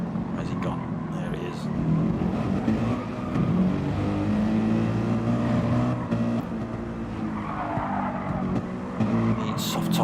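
GT3 race cars lap the Catalunya circuit in a sim racing league, with a continuous droning engine roar rising and falling as they battle, while a commentator talks over them.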